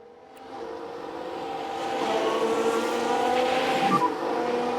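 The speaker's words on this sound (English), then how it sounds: "Looks like there's been a lock-up." In the F1 Manager 22 racing game, a Jordan Formula One car from the 1995 season locks a wheel under braking: a steady, loud engine roar rises and holds, with a brief squealing skid near the end.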